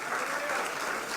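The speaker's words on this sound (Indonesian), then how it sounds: "Tepuk tangan." Applause from a church congregation during a worship service, a dense steady wash of clapping that holds at even strength throughout.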